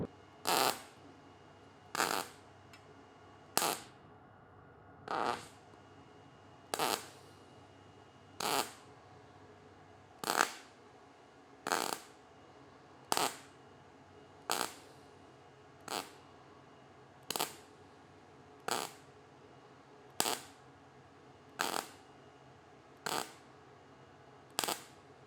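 MIG welding with an ArcCaptain 205 PRO welder in automotive stitch-welding mode, short sharp crackling bursts repeated at an even rhythm about every one to two seconds, close and alone.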